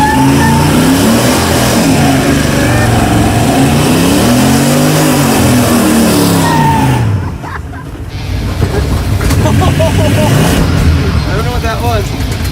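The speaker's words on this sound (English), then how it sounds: "You have to smoky burnout." A car does a smoky burnout, engine revving hard in rising and falling sweeps for about seven seconds before dropping off, then picking back up more roughly; voices talk over it.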